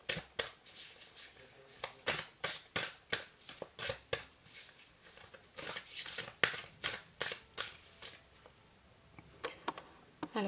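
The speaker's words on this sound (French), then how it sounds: "pendant que je bats les cartes" A deck of tarot cards is shuffled over and over, making quiet, crisp riffling and snapping bursts in an uneven rhythm, close by with no talk.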